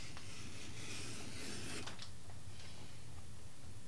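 A flat profile beveler dragged along a leather edge, a faint close rasping scrape with a few small catches, steady and quiet throughout.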